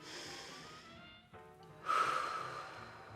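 A woman takes deep breaths while getting used to tight lace lingerie, a soft slow inhale followed by a stronger, breathy exhale, close and quiet with no talking.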